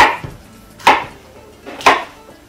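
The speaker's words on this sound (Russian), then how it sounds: "Перец, знаете, порежу тоже довольно-таки крупненько." Knife chopping bell pepper into large chunks on a board, two sharp, distinct cuts about a second apart with quiet handling in between, close and fairly loud.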